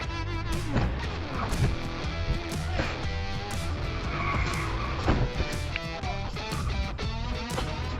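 Swerving SUV on a highway skidding into a Toyota Highlander, with screeching tire squeals and engine noise over a steady road roar, punctuated by sharp bursts.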